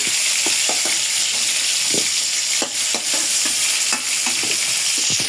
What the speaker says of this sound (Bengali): ফুলকপিগুলো ভাজা হয়ে গেছে উঠাই নেব হালকা ভাজি একটু